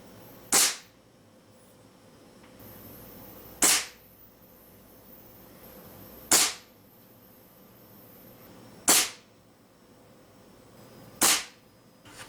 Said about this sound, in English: let's take a look at a 12-yard indoor test shooting from a rest